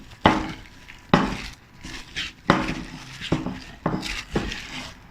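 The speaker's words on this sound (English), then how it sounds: "Once it forms into a dough, use your hand to knead it for a short while." Pastry dough for pineapple tarts is kneaded by hand in a bowl, making a steady series of soft thumps and pushes. Each press brings light clinks and rattles from the bowl.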